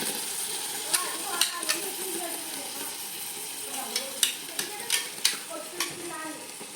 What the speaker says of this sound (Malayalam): ഇനി തക്കാളിയുടെ പച്ചമണം മാറുന്നത് വരെ നമുക്കിങ്ങനെ ഇളക്കി കൊടുക്കുക